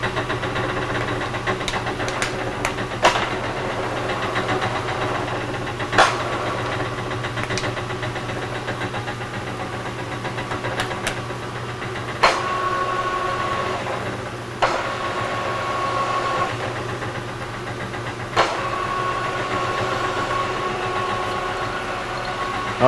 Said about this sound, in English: I just brought you in so you can see the spindle turning here, and I'm just going through the gears.